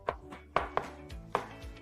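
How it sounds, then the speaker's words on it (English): A knife chops through mushrooms on a cutting board, several crisp, uneven strokes close by with short pauses between them. "Next, we cut the mushrooms after the onion."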